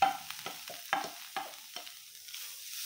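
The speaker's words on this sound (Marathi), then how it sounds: "याच कढईमध्ये भोपळ्याचा किस घालायचा आहे।" Grated bottle gourd stirred in a kadhai for lauki halwa, with a spatula scraping in short intermittent strokes and a soft sizzle trailing off between them, close and fairly quiet with no voices.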